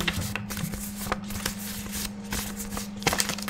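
Deck of playing cards being shuffled at a tabletop game session, a run of quick riffling flutters and soft card slaps close by, with a steady low hum underneath.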